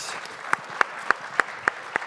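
Sparse, evenly spaced claps, about six sharp hits at a steady slow rhythm, greeting a panel discussion moderator at a business electrification conference, fairly close against quiet room noise.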